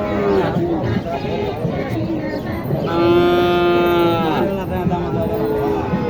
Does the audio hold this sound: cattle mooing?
yes